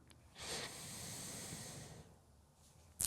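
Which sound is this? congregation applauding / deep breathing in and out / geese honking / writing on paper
deep breathing in and out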